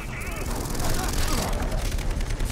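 Dense, continuous gunfire bursts crackle and boom throughout, with heavy layered noise like a busy game battle, loud and unrelenting, in the video game Far Cry 3.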